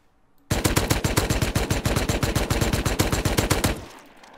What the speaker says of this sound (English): Fancy, are you shooting at me right now when PvP is disabled?